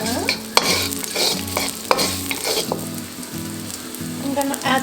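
Ginger root and garlic sizzle loudly in a hot pan while being stir-fried. A spatula scrapes in repeated strokes across the pan, and a few sharp clacks stand out over the steady frying hiss.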